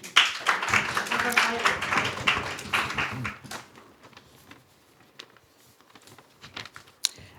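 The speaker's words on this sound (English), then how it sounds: "Please give her a round of applause as well" An audience at a panel discussion claps for a few seconds, fairly dense and close, then the applause thins into scattered taps and near quiet.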